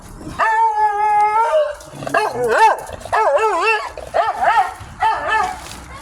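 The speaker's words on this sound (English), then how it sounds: "Like it always comes and barks at you like it done forgot who you are before." A dog barks and howls close by: a long drawn howl first, then a run of wavering, yelping barks and howl-like cries, loud and in the foreground throughout.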